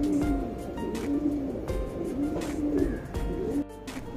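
Pigeons offered for sale coo repeatedly in a steady, rhythmic series of soft throaty calls. The birds sound close, with faint chirps mixed in and no talking.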